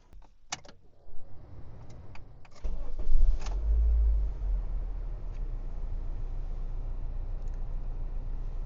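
A 2008 Honda Civic's engine cranks briefly and catches after a few clicks, then settles into a steady, quiet idle heard close up with no talking.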